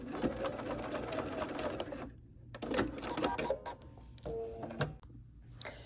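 Close, fast rhythmic stitching from a sewing machine sewing a teddy bear seam down the nose, running in bursts with short pauses and tacking clicks near the end.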